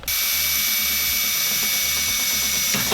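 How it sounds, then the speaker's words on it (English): A power drill bores into the metal door body of a 1997 car, with a steady, loud, continuous whine that runs unbroken for the whole stretch and then eases slightly at the end. "so we are going to have to drill into the body."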